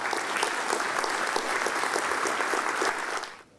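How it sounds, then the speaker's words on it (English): Audience applause at a financial services industry conference, a steady wash of many hands clapping that holds evenly for about three seconds, then quickly fades out. "So please give them a big round of applause."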